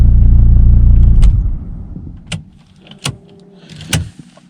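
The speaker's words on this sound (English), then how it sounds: "You shut your engine off like this." A Volvo car engine rumbles briefly at idle and then cuts off, followed by a few faint clicks and taps in the quiet cabin.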